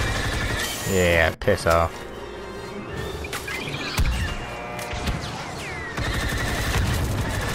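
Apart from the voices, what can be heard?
gunfire in Star Wars Battlefront 2 video game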